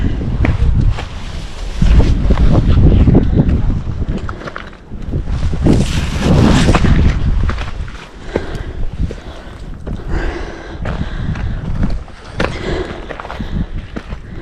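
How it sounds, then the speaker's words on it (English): Strong wind at Linville Gorge roars and buffets the microphone in loud, broadband gusts, peaking in heavy surges and easing briefly between them, with no voices heard. "I don't want to go out there with that wind"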